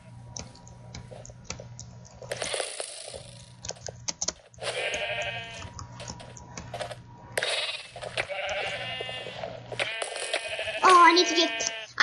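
Sheep bleat repeatedly in the Minecraft game on Mineplex during a sheep-collecting match, several loud wavering cries over a low ticking game drone and clicking, with a player talking at times.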